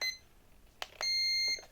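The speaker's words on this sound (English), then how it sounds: "The long beep means that it's centered." An RC transmitter for a Sport Cub S trainer gives two short clicks, then one sustained high beep signalling the trim is centered, followed by a couple of faint blips, close and clear.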